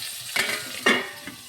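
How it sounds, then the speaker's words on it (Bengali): Koi fish frying in oil in a covered pan, an open crackling sizzle that flares in two louder bursts, close and without talk. "আমি সবসময় মাছ কিন্তু ঢাকা দিয়ে ভাজি"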